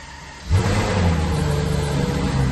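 A Ferrari GTC Lusso V12 engine cranks and fires into a loud rev, then settles into a deep, steady idle rumble close by, with no talk.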